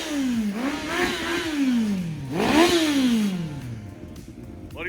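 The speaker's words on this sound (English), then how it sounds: "got ourselves a Yamaha FZ1 leader bike. Should be around 150 horsepower when we're done with it." A Yamaha FZ1 engine, being fitted to a homemade golf cart, revs up close and loud twice in rising sweeps that fall back between pulls, finishing on a steady idle.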